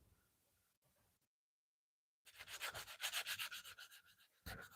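Hand sanding on a wooden knife handle for a scribing knife, heard as a brisk run of loud, rhythmic abrasive strokes close by after a short quiet gap, with no talking.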